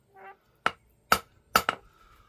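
Hammer blows on hot metal over a blacksmith's anvil during forging: four sharp ringing clanks, the last two in quick succession, with a faint metallic ring lingering between strikes in a quiet shop.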